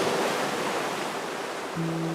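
Ocean surf in the video game Honkai Star Rail, a steady broadband wash of waves that stays even throughout, with a low tonal hum coming in near the end.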